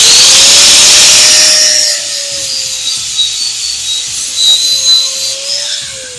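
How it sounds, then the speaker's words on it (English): A power grinder whines loudly against a metal frame, grinding a spot down to bare metal, then the sound eases into a lower, rougher grinding with fluctuating pitch, close and without talk. "you want to grind a spot here on your frame so you have bare metal"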